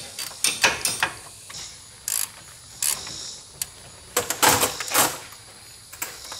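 A ratchet clicks in quick bursts while wheel bearing nuts on a Ford Ranger are tightened, sharp close rapid clicks separated by short pauses, with no talking.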